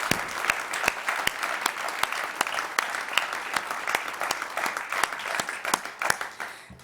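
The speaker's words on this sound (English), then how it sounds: "So I'd like for you to just give them all a round of applause for their hard work for Poetry Out Loud this year." Steady audience applause for Poetry Out Loud state-level student performers, dense even clapping with sharp individual claps standing out, sustained throughout at moderate room distance with no talking.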